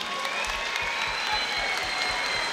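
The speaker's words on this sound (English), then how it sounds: "please, a massive round of applause for both fighters." Crowd at a Muay Thai fight event applauding both fighters in the ring after the bout, continuous dense clapping with a faint cheer and a ringing tone beneath, steady for the whole stretch.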